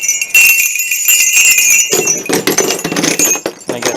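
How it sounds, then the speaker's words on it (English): A set of chimes bought at a yard sale rings with bright, sustained metallic tones that overlap and shimmer, loud and close, with a denser jangle of struck tubes in the second half. "Then we have a set of chimes."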